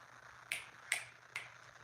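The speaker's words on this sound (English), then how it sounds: "when I snap my fingers," Three sharp finger snaps ring out one after another at an uneven, quick pace, made to call kittens in a quiet room; the snaps are close and crisp with little else around them.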